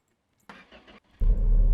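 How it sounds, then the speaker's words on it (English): Coyote V8 in a Car Mechanic Simulator game cranking briefly, a short pause, then catching into a loud, steady low growl that fills the end. "Listen to that Coyote engine growling away."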